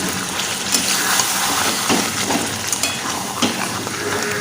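A little water goes into frying coconut chicken in a pan, setting off a loud, steady sizzle with bubbling and several sharp crackles and spatters throughout.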